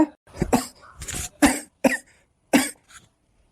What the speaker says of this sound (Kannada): ಹಾಳಾದ ಕೆಮ್ಮು ಕೆಮ್ಮಿ ಕೆಮ್ಮಿ ಕೆಮ್ಮಿ ನಂಗಂತೂ ಸುಸ್ತಾಗುತ್ತದಮ್ಮ